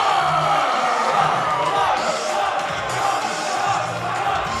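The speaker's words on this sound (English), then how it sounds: "This crowd just became unglued for Andy Williams and PUF." A wrestling crowd cheers wildly, a dense, steady roar of yelling and whooping that fills the arena without letup.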